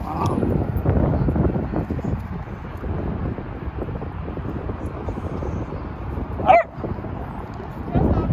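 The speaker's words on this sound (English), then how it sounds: "Sounds like a bigger dog." A dog, apparently a fairly big one, barks in the distance through steady wind rumble on the microphone, while a cream dachshund puppy's owners talk nearby over it.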